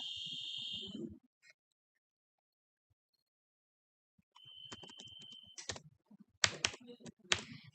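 Quiet computer keyboard typing in a room, with a few sparse key presses followed by short bursts of clicking and a faint electronic beep.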